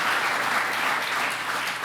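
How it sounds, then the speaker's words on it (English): Steady applause from an audience at a televised interview honoring baseball player Harmon Killebrew, dense and even throughout without talk. "Probably worthy of another round of applause."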